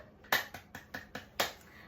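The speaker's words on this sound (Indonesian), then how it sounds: "Kita beri tepuk tangan dulu yuk semua" Six sharp, evenly spaced claps in a classroom, close and distinct with quiet pauses between them, without talk.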